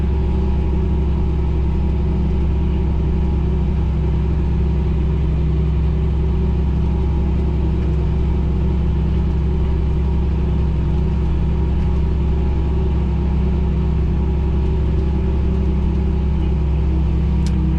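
A Fendt 1050 tractor engine runs during cornstalk tillage, a loud, steady low rumble and drone heard from the cab, unbroken for the whole stretch with no talking.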